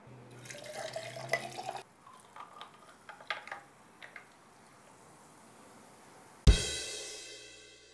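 Margarita mix and lime-flavored sparkling water poured together for a cocktail: a soft trickling, splashing pour with small drips, then a sharp close knock and a fading fizzy hiss.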